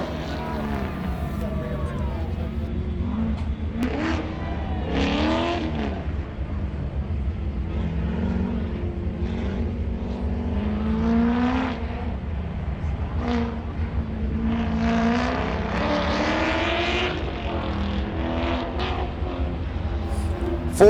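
A Corvette and a Camaro race up a mountain hill climb, their engines revving and shifting through repeated rising sweeps at a distance while an announcer talks over them.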